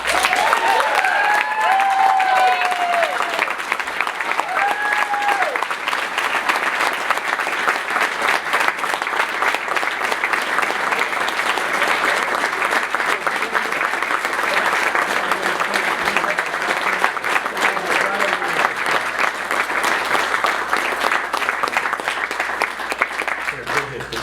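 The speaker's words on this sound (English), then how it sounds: "Let's hear it for our 2015 Manager of the Year, Pete Kutheis." Loud, sustained applause from a large awards ceremony audience, with a few cheers early on, clapping steadily for over twenty seconds.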